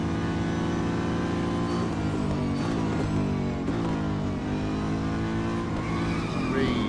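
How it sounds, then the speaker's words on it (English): Car engine droning steadily in Real Racing 3 with a brief tyre skid, the loud revving tone continuous throughout and shifting pitch as the car slides and recovers. "Nice little skid in there."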